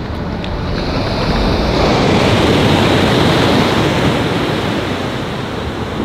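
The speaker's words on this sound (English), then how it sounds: "The beach is so calm here." Calm beach surf rolls in as a steady, loud wash of waves along the California coast, with a constant roar and some wind buffeting the microphone throughout, no voices.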